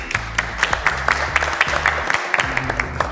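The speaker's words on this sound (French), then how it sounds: "On peut applaudir." A quiz show audience claps after a round score is announced, a steady patter of many hands close by with sharp individual claps standing out over the short burst.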